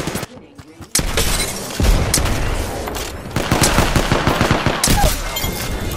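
Dense gunfire in Apex Legends erupts after a short quiet moment, with rapid automatic bursts and sharp impacts layered together, loud and sustained through the rest of the clip.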